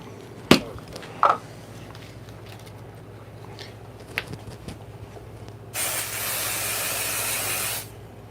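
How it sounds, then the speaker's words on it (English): A spray bottle of pixie spray gives a steady two-second hiss near the end, after a few sharp clicks and taps on a crafting table under a low background hum. "I don't know if I sprayed enough pixie spray on this."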